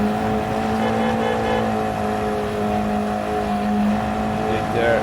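A race car engine in a racing video game drones at a steady high pitch on the Sardegna Windmills track, loud and sustained, with slight shifts in revs throughout.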